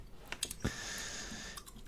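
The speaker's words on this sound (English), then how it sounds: "I actually love to type things on the computer" Light, rapid clicking of fingers typing on a computer keyboard, soft and close against a steady hiss, with a few sharper key taps and no talk.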